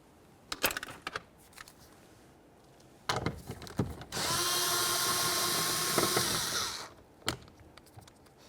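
A power tool runs in one steady burst of about three seconds, backing out a 10mm headed bolt inside the front door of a 2012-2018 Nissan Altima, with clicks and handling noises before and after.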